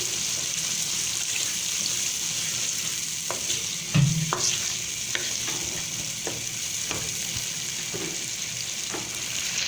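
Mashed boiled chickpeas being mixed into a sizzling pan, a steady frying hiss under repeated spoon scrapes and taps at an uneven rhythm, close and clear, without talk.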